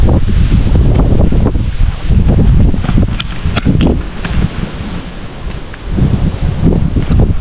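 Strong wind at Tan-awan Echo Park, loud gusts buffeting the microphone in surging waves with rustling, no talk.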